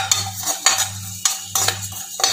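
Cumin seeds roasting in a pan while a spoon stirs them, giving repeated scraping and rattling strokes with a faint, steady low hum underneath.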